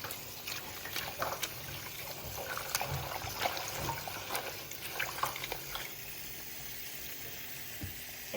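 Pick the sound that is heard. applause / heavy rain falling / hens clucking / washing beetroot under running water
washing beetroot under running water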